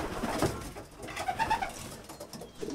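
A racing pigeon coos softly nearby in a few low, rolling calls, with faint background noise and no voices.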